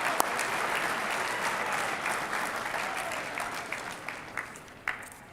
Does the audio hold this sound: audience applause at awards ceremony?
yes